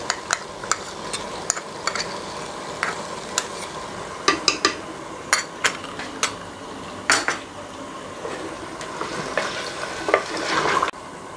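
Mutton frying with ginger, garlic and green chili paste in a pot, with steady sizzling under repeated scraping and clinking of a metal spoon stirring against the pan.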